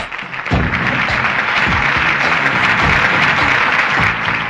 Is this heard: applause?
yes